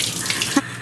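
Tap water runs into a kitchen sink while vegetables are washed for a home cooking session making fried oysters, a brief close splashing flow.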